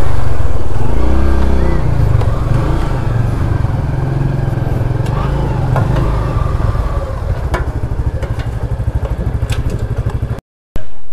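Several motorcycles from a group of bikers idle loudly nearby as they pull in and park outside the district council in Narayanganj. A heavy, throbbing engine rumble dominates and gradually thins, with faint clatter and a brief cut near the end.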